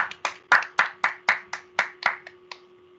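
About a dozen distinct claps ring out in a loose, evenly spaced rhythm from a small audience at a ladies' program, fairly close and fading at the end.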